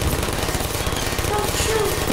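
Continuous rapid automatic gunfire from turrets in Portal, a dense, loud, unbroken rattle filling the whole short stretch.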